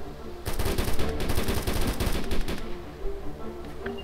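Rapid automatic gunfire rattles out in the video game DayZ Origins, a loud close burst of shots lasting a couple of seconds before cutting off.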